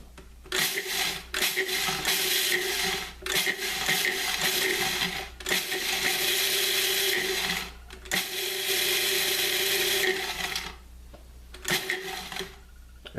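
A kitchen blender pulses Rice Krispies cereal into crumbs for a chicken coating, giving several loud whirring bursts separated by short pauses.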